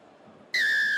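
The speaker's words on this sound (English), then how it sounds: "Juan Cruz Malia will get the second half underway after the whistle blown by Adrian Marbo, our referee." A referee blows a single sharp whistle to restart a professional rugby union match for the second half, a loud sustained shrill tone lasting about half a second after a quiet crowd murmur.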